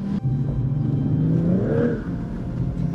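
BMW M240i Cabriolet with eight-speed automatic accelerating, a close steady engine drone that rises in pitch as revs climb, heard from inside the car.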